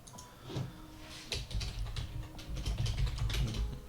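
Typing on a computer keyboard while leads are entered into real estate CRM software, a close run of quick, uneven key clicks with no talking.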